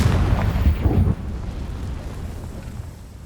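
A fiery Confringo spell detonating in the Hogwarts Legacy video game, a loud rumbling burst that drops off abruptly after about a second into a lingering low ambient wash.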